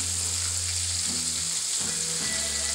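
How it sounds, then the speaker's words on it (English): Homemade chicken strips sizzling in hot oil, a steady bright frying hiss throughout with faint stirring and bubbling shifts, no voices. "So let me keep frying this up."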